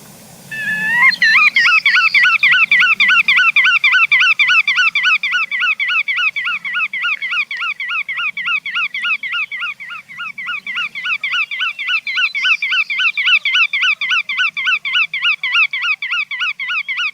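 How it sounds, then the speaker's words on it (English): A recorded shorebird call plays alone: a loud, rapid, steady series of sharp repeated notes that runs without pause for the whole stretch, with no talking over it. "So I'll play the voice of a bird."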